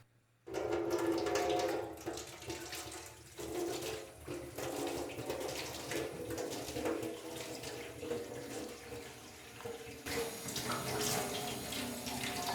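Hot water from a tap runs and splashes steadily onto a sheet of foam board, a continuous close hiss and gush for about twelve seconds with no talk.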